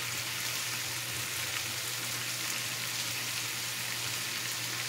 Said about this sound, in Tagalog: Lagyan natin ng garlic chili